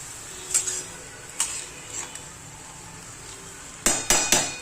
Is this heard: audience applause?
no